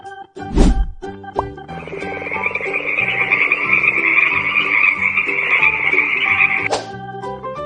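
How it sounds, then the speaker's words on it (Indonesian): A frog croaks in a sustained, buzzing trill, loud and close, set over light background music with a couple of sharp splashy hits. "Kodok."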